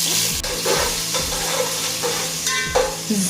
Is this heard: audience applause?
no